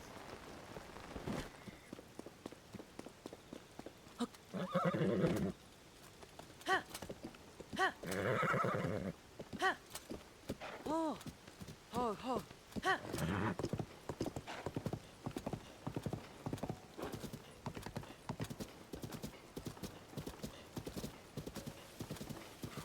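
Hooves clip-clop in a steady, repeated rhythm with a few loud, drawn-out horse whinnies standing out between them, all from a horse in Zelda: Tears of the Kingdom, with light patter in the background.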